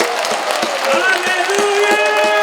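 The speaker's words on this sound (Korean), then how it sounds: "우리 뜨겁게 우리 하느님께 찬미와 영광의 박수를 드립시다." A congregation at a Korean Catholic charismatic renewal healing retreat claps together in a steady, crowded patter, with sustained voices or tones ringing over the clapping throughout.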